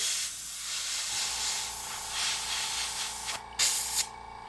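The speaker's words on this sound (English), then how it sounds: "You can kind of deflect the airbrush away." An airbrush sprays white paint onto miniature tentacles, a close, steady hiss with short breaks and a louder burst near the end, no talking.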